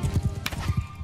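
Horses gallop in Mount & Blade II: Bannerlord as riders head back to the main front, giving loud, close hoofbeats in a quick, rolling rhythm with a brief higher whinny.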